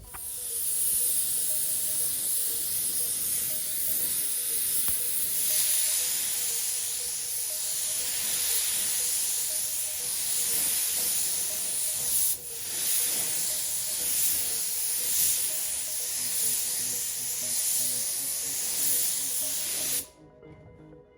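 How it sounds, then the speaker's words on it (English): A spray gun lays base coat paint onto a 2023 Ford Ranger being rebuilt after a wreck, giving a loud continuous hiss with brief pauses between passes before cutting off near the end. "I can go ahead and spray on the base coat."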